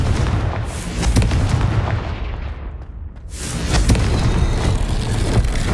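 Confringo spell explosions in the video game Hogwarts Legacy, booming in loud, close blasts with rumbling tails and a brief lull between bursts.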